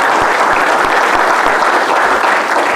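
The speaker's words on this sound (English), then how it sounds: "Let's give them all one more round of applause," Steady, dense applause from an audience at a tribal council meeting honoring veterans, a continuous close wash of clapping throughout with no talk.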